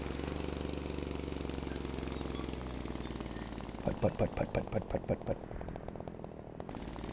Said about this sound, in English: I love the idle of the Bulldog engines.